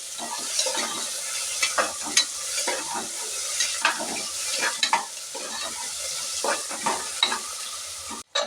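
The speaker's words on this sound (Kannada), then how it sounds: "ಫ್ರೈ ಆದ ನಂತರ ಒಂದು ಬೌಲ್ ಈರುಳ್ಳಿ ಇದ್ದೀನಿ ಚೆನ್ನಾಗಿ ಫ್ರೈ ಆಗಲಿ" Onions fry in a pan for a vegetable pulao, giving a steady, fairly loud sizzle with repeated stirring scrapes and spatula taps. No voices are heard.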